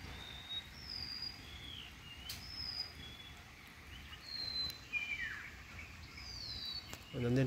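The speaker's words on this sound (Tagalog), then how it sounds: "Nandun pa rin yung ibon no." Wild bird calls near a dirty creek, thin high chirps and whistles repeating at intervals over a faint outdoor hum, fairly distant.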